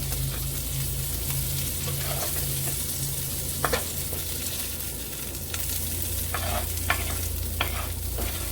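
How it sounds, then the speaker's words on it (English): Crispy pancetta is lifted out of sizzling rendered fat in a pan, a steady close frying hiss broken by several sharp clicks and scrapes of a utensil against the pan. "you're going to take the pancetta out of the pan, just like so."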